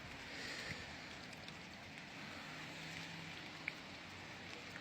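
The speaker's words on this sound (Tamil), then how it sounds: "இன்றைக்கு நல்ல மழை தொடர்ந்து மழை பெஞ்சு கொண்டு தான் இருக்கு" Steady rain falls outdoors on a wet day in Switzerland, a soft continuous hiss of drops with light wind, even and moderately quiet throughout, with one brief tick near the end.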